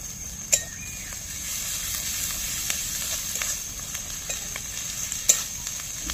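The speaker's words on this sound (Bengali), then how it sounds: "তার সাথে আদা রসুনটাও ভাজা হয়ে গিয়েছে পেঁয়াজের সাথে সাথে।" Onion, ginger and garlic frying in oil for a village-style duck curry, giving a steady close sizzle and crackle with a couple of louder pops or clacks of stirring along the way.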